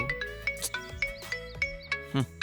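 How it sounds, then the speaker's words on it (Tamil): A mobile phone rings with a bright, tinkling tune of rapid repeated notes, sounding nearby and continuous. "அந்த ஃபோன் அப்போலேருந்து அடிச்சுட்டே இருக்கு."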